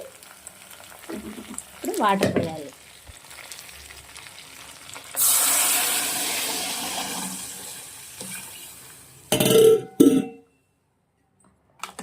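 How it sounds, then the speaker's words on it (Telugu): Water poured into a hot pan of tomato, tamarind, salt and turmeric bursts into a loud, hissing sizzle that swells and slowly fades, followed by a couple of clanks of cookware; brief throaty sounds come earlier. "ఇప్పుడు వాటర్ పోయాలి."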